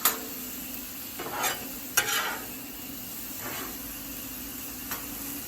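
Chicken sizzles steadily on a Blackstone griddle top, a constant hiss punctuated by a few sharper crackles and scraping bursts, close and fairly quiet with no talking.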